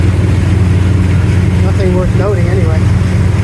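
The 1928 classic yacht Euphemia's engine runs without its turbo, a steady low mechanical drone close by, with someone talking over it.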